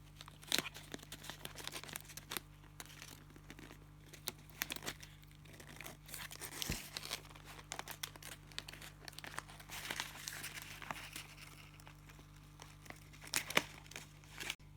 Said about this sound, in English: I've got all my silver paper in the top,